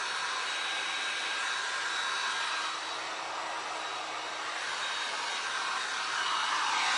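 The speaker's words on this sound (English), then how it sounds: "Now I'm gonna grab my heat gun real quick and I'm gonna get all this dry." A heat gun blows steadily and loudly up close while drying resin pumpkin art with an orange pumpkin on a navy background, a continuous airy roar with slight shifts in tone.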